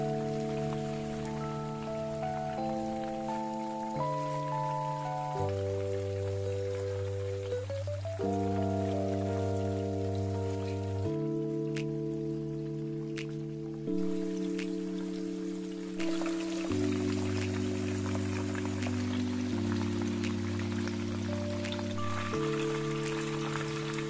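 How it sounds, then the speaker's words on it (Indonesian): Chicken pieces fry in a pan until browned for a soy-sauce stir-fry, a steady rain-like sizzle running under loud background music throughout. "aku akan masak ayamnya sampai kecoklatan gitu ya teman-teman"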